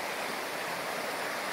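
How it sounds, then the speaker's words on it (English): The Duckabush River rushes steadily at a ford, a broad, continuous wash of flowing water close by with no voices. "Made it to the Duckabush River. Gonna ford here."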